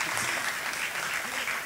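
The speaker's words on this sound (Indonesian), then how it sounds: "Tepuk tangan untuk kita semua." An audience claps together at a live dance lecture performance, giving a short burst of dense, steady applause that fills the room without a break.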